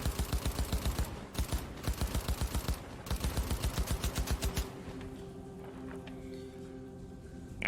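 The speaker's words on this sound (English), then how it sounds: "Sosa just lets loose with her rifle" Rifle gunfire effect: rapid automatic bursts of sharp, evenly spaced shots in several strings with short pauses, loud and close, then the firing stops and a low hum and faint tail remain.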